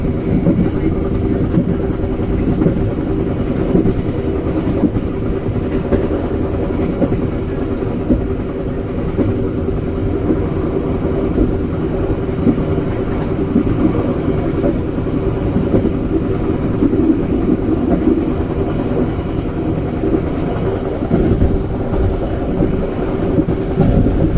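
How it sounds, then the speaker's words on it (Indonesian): A passenger train rumbles straight through Kandangan station without stopping, in a steady, heavy roar, with a continuous low drone and rattle that holds for the whole stretch without easing. "kereta api Erlangga 271 ini melintas langsung stasiun Kandangan"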